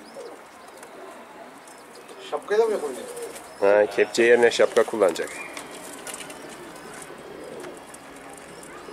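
A pigeon coos in a few soft, repeated throaty calls, close by, with people talking over and around it.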